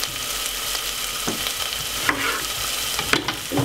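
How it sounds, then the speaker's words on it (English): A spoon stirs callaloo in a cooking pot over steady frying sizzle, with a few soft scrapes and knocks against the pot, close and fairly loud with no voices. "In the meantime, give this a stir."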